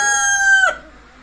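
A heavy, aggressive pure country (gavran) rooster crows once, loud and close: a single sustained, harmonic call that breaks off abruptly, followed by quiet.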